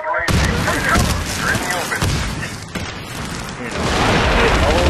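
A grenade explodes during Medal of Honor Warfighter beta multiplayer, a loud sudden boom near the start followed by sustained gunfire and blasts filling the scene, with shouted voices underneath.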